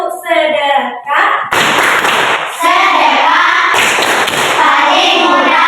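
Classroom pupils clap along to the Indonesian 'tepuk sedekah' clapping song, sharp rhythmic hand-claps and thuds in quick patterns close by, with a woman teacher and children's voices singing and talking over it.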